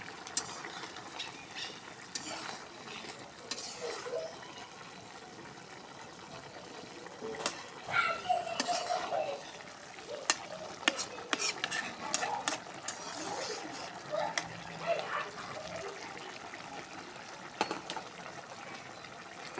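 Small bata fish curry with egg is stirred in a covered pan, with a spatula scraping and clinking against metal in irregular bursts over a low simmering background; no one speaks.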